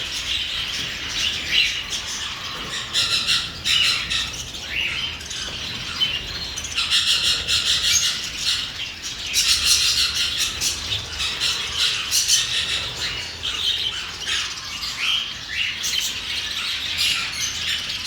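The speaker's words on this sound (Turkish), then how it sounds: "Bunlar ötücü. Çok güzel ötenleri de oluyor arkadaşlar. Bunlar hep Kanarya." A dense chorus of canaries and other small cage birds chirping and singing continuously, busy overlapping trills and squawks close by with no talking.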